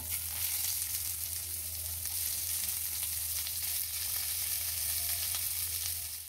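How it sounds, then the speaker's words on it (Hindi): Chopped onions fry in hot oil with a piece of cinnamon and two bay leaves, giving a loud, steady, close sizzle with faint stirring and no talking. "तापर काटी रखी पियाज पकईबा"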